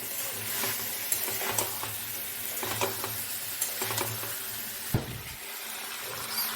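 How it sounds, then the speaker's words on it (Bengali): Squash frying in hot spiced oil while being stirred in a pan, with a steady sizzle under repeated scraping strokes and a sharper clatter near the end, no talking. "এবার আমি স্কোয়াশটা দিয়ে দেবো, দিয়ে ভালো করে কষাতে থাকবো।"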